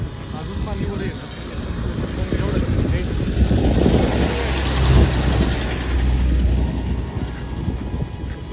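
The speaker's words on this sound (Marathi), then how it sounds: "कुसुंबीची गाडी गेलेली आहे" A vehicle from Kusumbi drives past near a filling river crossing, its broad engine and road rumble swelling to a peak midway and fading, with wind buffeting the microphone and voices talking over it.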